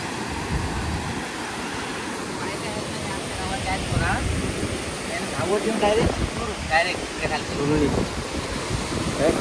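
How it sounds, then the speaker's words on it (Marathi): Strong river current rushing below a viewpoint in the Ratnagiri countryside, a steady broad roar of flowing water with wind buffeting, voices talking intermittently over it. "हे खालचं जे पाणी, हा जो प्रवाह आहे ना कमालीचा आहे"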